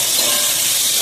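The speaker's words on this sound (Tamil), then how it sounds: "அதே எண்ணெயிலேயே உருளைக்கிழங்கு மெந்திய கீரையும் வதக்க போகிறேன்." Potatoes fry with fenugreek leaves in hot oil for methi rice, giving a loud, close, steady sizzling hiss that holds evenly through the brief moment with no speech.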